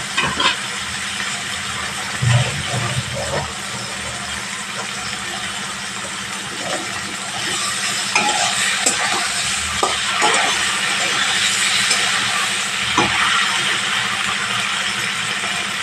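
Shrimp fry in a pan for a home-style pointed gourd and shrimp curry, making a continuous sizzle that swells louder partway through, with occasional light clinks and scrapes of a utensil and no talking.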